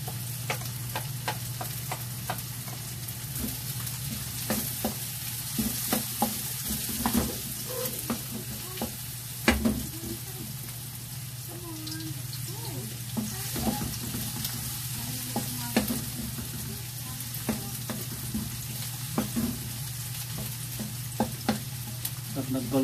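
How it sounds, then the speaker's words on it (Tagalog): Garlic fries in a pan for chicken liver adobo, with a steady oily sizzle and an occasional light clink of a utensil stirring, close by, with no talking. "Golden brown na rin yung bawang"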